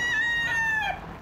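A rooster crows once, loud and close, in a single short sustained call at a City Hall meeting in Vancouver where residents opposed a proposed ban on keeping roosters.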